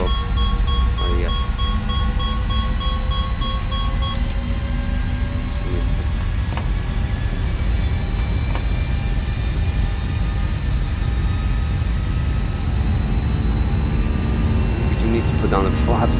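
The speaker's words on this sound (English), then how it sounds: "Let's full throttle." Airbus A320 engines in a flight simulator game spooling up to full takeoff thrust, a steady broadband roar with rising whining tones that climb gradually over many seconds; someone talks over it.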